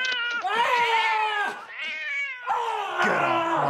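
Cat yowling in a series of loud, drawn-out, wavering caterwauls, three or four rising and falling cries close by with short breaks between them.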